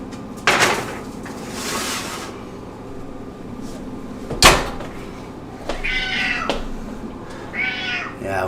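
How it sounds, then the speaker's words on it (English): A cat meows in a home kitchen during cooking of vegan Korean buffalo cauliflower wings, with two drawn-out meows late on among sharp knocks and cupboard or door clatter. "Yeah, we definitely have an unfortunate cat situation."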